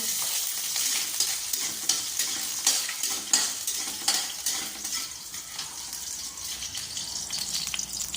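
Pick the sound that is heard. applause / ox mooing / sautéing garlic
sautéing garlic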